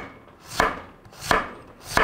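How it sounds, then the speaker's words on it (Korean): A knife julienning radish into thick strips on a cutting board, three sharp chops spaced about two-thirds of a second apart, close and crisp with no talking. "제가 무를 조금 채 썰어 넣을 거예요"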